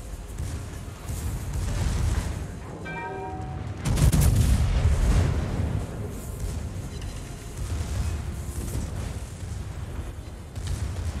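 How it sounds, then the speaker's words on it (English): Heavy naval gunfire from a World of Warships battle: deep booming salvo blasts with a strong burst near the middle, rumbling low and loud against ongoing battle noise. "She fired a salvo from there."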